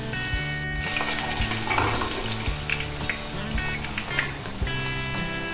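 Batter-coated chicken pakoras sizzle and crackle in hot frying oil, a steady, loud hiss with sporadic pops and a brief stir partway through, no voices.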